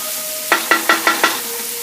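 Thinly sliced onions caramelizing in a pan for focaccia: a steady frying sizzle broken by five quick, evenly spaced scraping stirs close up, with the sizzle continuing underneath.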